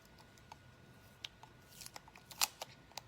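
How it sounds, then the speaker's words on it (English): Scissors snip through adhesive tape with glue stuck to it, a few faint, crisp cuts close by in a quiet room. "got a little bit of glue stuck on my tape there, so I cut that off."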